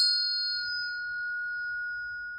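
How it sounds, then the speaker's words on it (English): A single bell strike rings out clearly, its bright tone sustaining and slowly fading over a couple of seconds, with faint low background rumble beneath. "I'm going to hit the bell once."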